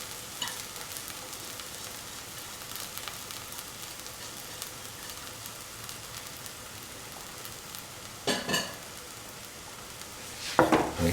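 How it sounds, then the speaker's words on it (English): Fennel powder stirred into tomatoes, onions, garlic and green chili frying in a pan: a steady soft sizzle throughout, with a couple of louder scraping stirs near the end. "Mix the fennel powder with the"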